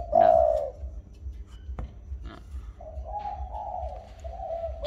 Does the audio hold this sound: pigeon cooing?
yes